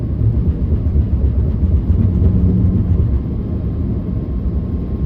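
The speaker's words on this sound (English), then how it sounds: "you're going to see it riding the dots again, rumble strips." Tesla Cybertruck tires rolling over raised highway dots and rumble strips at about 67 mph, giving a loud, steady low rumble with dense, rapid drumming texture throughout, continuous and close, with no talk.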